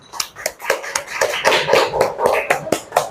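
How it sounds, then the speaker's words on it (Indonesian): A classroom of junior high students claps for the first group of presenters, a light, uneven patter of hands close by, a few dozen quick claps rising and falling without voices. "Berikan tepuk tangan untuk kelompok 1"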